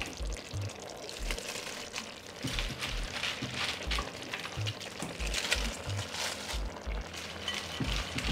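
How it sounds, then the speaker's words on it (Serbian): Fresh chopped peppers with spices simmering in a pot, a continuous close sizzle and bubbling with repeated scraping strokes of a stirring spoon, no talk. "Nakon začina dodajem iseckanu svežu papriku i sve ću promešati i zajedno još krčkati jedno 2 minuta."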